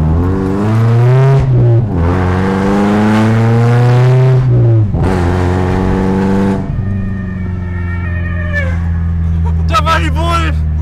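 A BMW E36 driving through town, its engine revving loudly and close in several long surges that climb and fall in pitch, then settling into a steady, deep droning cruise.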